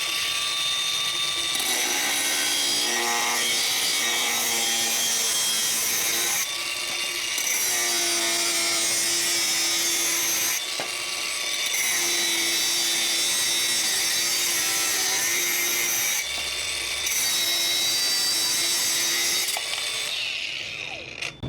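A DongCheng DCSM08-100 cordless grinder with no variable speed cuts through 1.6 mm hollow steel tube, a loud continuous whine and grinding rasp broken by short pauses between passes.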